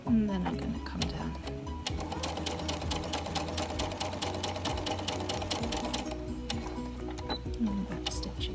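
A sewing machine back stitches fabric in rapid, even ticking bursts that run steadily and close up, with a person talking over it.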